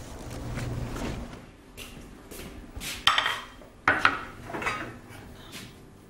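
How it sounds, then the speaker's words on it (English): A knife chops fresh spearmint on a board in a home kitchen, giving irregular soft knocks and scraping taps with a few sharper clicks, close and alone without talk. "I just got to cut some spearmint now."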